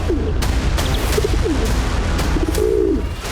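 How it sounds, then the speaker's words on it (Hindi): Low cooing calls from a nearby pigeon at about 12,000 feet in the Himalayas of Uttarakhand, several soft repeated coos over steady wind-like rumble, with a few sharp knocks in between. "एक कबूतर था।"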